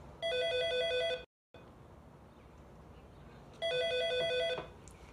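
A telephone rings twice with electronic bell-like trills, each burst about a second long and clearly separated by a pause, close and fairly loud over a quiet room background, with no talking.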